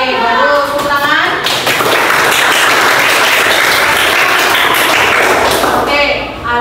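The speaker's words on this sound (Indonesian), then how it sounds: "Oke, baru tepuk tangan." Students in an eighth-grade classroom clap together in a loud, dense burst close by, with a voice briefly audible at the start and some thumps mixed into the clapping.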